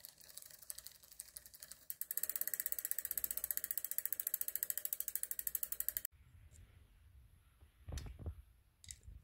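Shimano Tiagra bicycle derailleur being shifted into the smallest cog, heard as a rapid, even ratcheting click train for several seconds, then a sudden stop followed by a few softer clicks and knocks.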